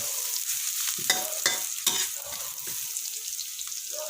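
Garlic sizzles and crackles in a hot pan, with a few sharp scrapes of a utensil stirring it, close and moderately loud.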